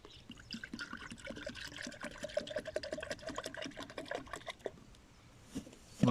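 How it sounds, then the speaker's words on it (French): Water runs into a livestock mineral and vitamin distributor being filled for heifers on a farm, a close, bubbling trickle with faint splashes that tails off near the end, before a brief louder knock. "là je termine le remplissage de l'eau"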